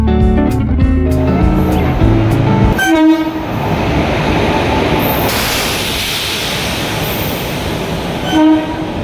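A loud train horn blares at the start, then the train rumbles along with a steady roar, and the horn sounds again briefly near the end.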